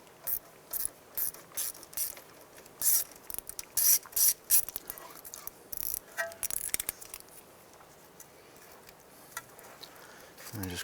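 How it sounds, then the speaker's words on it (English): Ratchet with an 8mm socket clicking as it loosens the ABS sensor bolt on a 2001-2007 Ford Escape during wheel bearing and hub work, a run of close, sharp ratcheting bursts with short pauses between strokes. "Using an 8mm socket, want to go ahead and remove the ABS sensor bolt right here."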